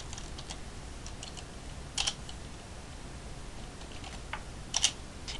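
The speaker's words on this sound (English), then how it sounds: "We can also type in the values of inputs explicitly in the input box" Light, sparse keystrokes tap on a computer keyboard as input values are typed, with a few small clusters of clicks over faint background hiss, close but quiet.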